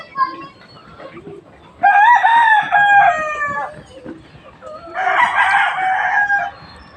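A Rhode Island Red rooster crows twice nearby, two loud drawn-out calls with short quieter gaps of clucking and farmyard noise between them.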